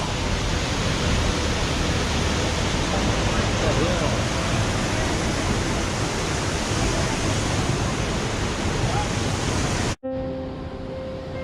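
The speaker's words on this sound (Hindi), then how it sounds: "This is the Nainai waterfall." Ninai Waterfall in Shoolpaneshwar Wildlife Sanctuary near Dediapada roars with a loud, dense, continuous rush of falling water for about ten seconds. It then cuts off abruptly to a much quieter outdoor ambience.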